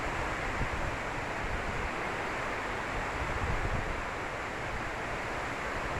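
Strong wind roars steadily, a dense, constant rush buffeting the microphone with no breaks.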